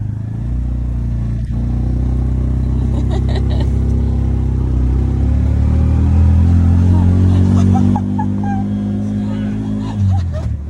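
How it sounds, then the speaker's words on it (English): A tuk tuk auto-rickshaw on a first drive in Sri Lanka gives a loud, steady low engine rumble close by that rises slightly as it moves off. People talk over the engine. "first drive in a Tuk Tuk. Let's go."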